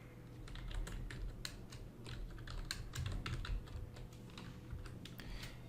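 Typing on a computer keyboard, a quick irregular run of close, crisp key clicks, fairly quiet and alone.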